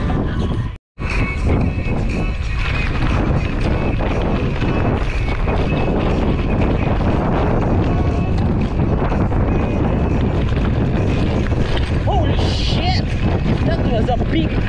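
Loud, constant strong wind on a hot afternoon in Claveria, Cagayan, Philippines, buffeting the microphone with a roaring rumble throughout, briefly cutting out near the start, with faint talk buried underneath.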